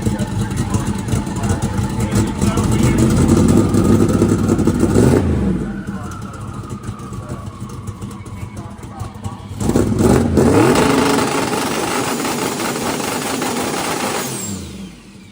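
A turbocharged race car engine with a two-step revs hard in loud sustained bursts, dropping to a rough idle between them, with people talking nearby.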